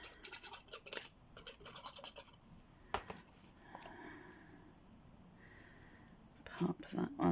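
Small pieces of tape are snipped and handled at close range, with soft scratchy cuts and light rustling in short bursts between quiet pauses, during craft work.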